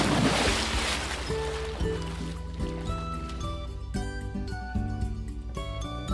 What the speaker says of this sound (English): a splash in the pool on a hot summer's day